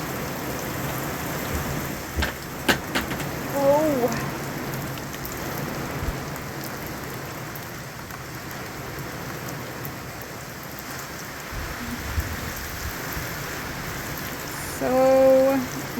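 Heavy rain pouring down outdoors during milking, a dense, steady hiss of drops drumming on surfaces throughout, close and loud, with a brief exclamation and a few faint voices under it.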